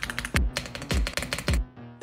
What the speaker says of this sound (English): The typing sounds like this.